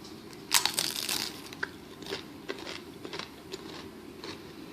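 Biting into a fried corn tortilla beef flauta gives a loud crisp crunch up close, followed by softer crackling chews that fade over a few seconds.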